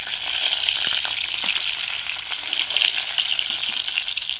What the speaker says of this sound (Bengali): ডিমগুলোকে লাল করে ভেজে নিয়েছি